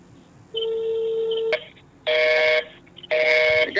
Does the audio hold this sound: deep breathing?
no